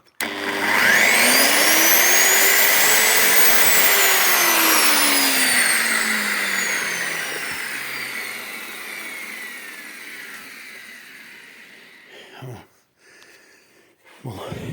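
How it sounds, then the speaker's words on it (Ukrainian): An angle grinder powered from a pure sine wave inverter spins up with a loud rising whine, holds steady, then slowly winds down as it coasts, followed by brief clicks near the end. "Булгарка запускається."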